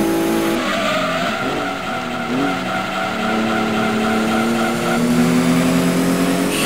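Tires squeal and skid as a race car slides through a four-wheel drift in Gran Turismo 2, the engine droning steadily underneath with pitch sweeps as the slide is held for several seconds.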